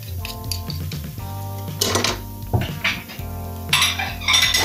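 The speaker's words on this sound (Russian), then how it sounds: "Чуть берем тарелочку." A plate picked up after cooking fried eggs on a gas stove, with loud clinks and clatter of dishes and utensils against a background hum, several sharp knocks close by, no talking.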